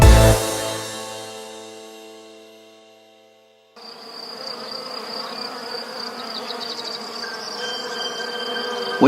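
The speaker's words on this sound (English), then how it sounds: "We have evolved alongside the honeybee in a symbiotic relationship." After a fading ringing tone dies away, a swarm of honeybees buzzes steadily and continuously, a dense close hum that holds to the end.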